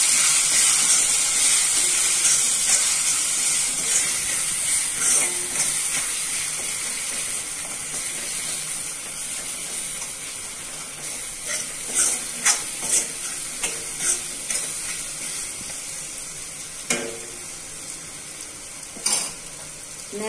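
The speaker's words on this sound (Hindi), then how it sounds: "पाव भाजी मसाला 2 टेबलस्पून, किसी भी ब्रांड का चलेगा, और नमक स्वाद के अनुसार। अच्छे से मिक्स कर लेंगे।" Pav bhaji vegetables with masala sizzle in a hot pan as they are stirred, a constant hiss broken by scattered scrapes and clinks of the utensil that grow more frequent toward the end.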